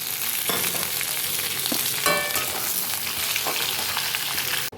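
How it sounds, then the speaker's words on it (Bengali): Onion and capsicum frying in ghee with whole cumin seeds in a pan, a steady close sizzle running throughout with a brief stirring clatter partway through. "তো আমার এখানে এই ক্যাপসিকাম আর পেঁয়াজটা ভাজা হয়ে গেছে ঘিতে।"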